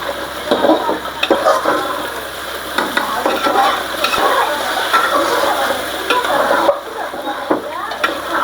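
Okra frying in hot oil in a pan, a continuous close sizzle with repeated scraping stirs of a spatula throughout, alone without talk.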